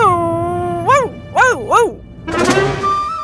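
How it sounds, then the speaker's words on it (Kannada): A dog in a period drama scene lets out a rising and falling howl in several wavering bursts, close and loud, then gives a rough, noisy bark-like outburst. "ಇದು ನಾಯಿಯ ಧ್ವನಿಯ ಹಾಗೆ ಪ್ರತೀತಿ ಆಗುತ್ತಿದೆ."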